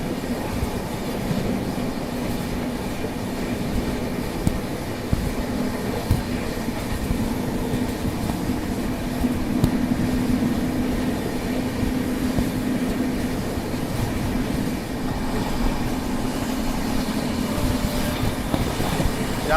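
An Indian Railways express train runs at high speed, a steady loud rumble of wheels and rails with rhythmic clicks and knocks over nearly twenty seconds.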